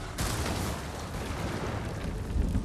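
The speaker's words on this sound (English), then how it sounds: "Bro, they're doing the heavenly strike right now" Heavenly strike lightning attack in the video game Ghost of Tsushima, a sudden loud crackling burst followed by a sustained rumbling roar with a deeper boom near the end.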